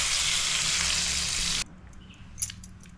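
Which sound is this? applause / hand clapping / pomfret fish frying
pomfret fish frying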